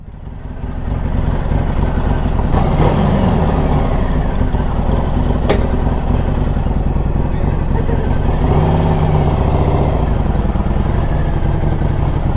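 A Harley-Davidson Iron 1200 motorcycle on a ride gives a loud, constant engine rumble with wind noise throughout, recorded close to the bike.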